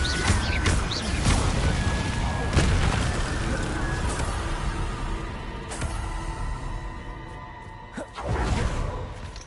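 Confringo spell blasts in the Hogwarts Legacy video game burst into a series of loud booms and crashes over rumbling combat noise. Several sharp explosions hit in turn, followed by a heavier blast near the end.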